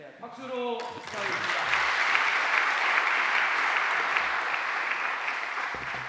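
An audience at a lecture on an anti-discrimination bill breaks into dense, sustained applause for the professor, steady and full for several seconds, following a brief spoken voice at the start.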